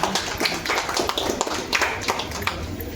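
A small crowd gathered for the grand opening of a tailoring boutique claps in loose, scattered bursts of sharp slaps that run steadily throughout, with light background noise.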